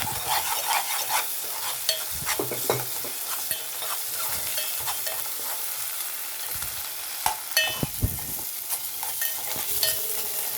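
Onions frying with turmeric, chili powder and ginger-garlic paste are stirred in a pan, giving a steady close sizzle broken by repeated scraping strokes of the spoon.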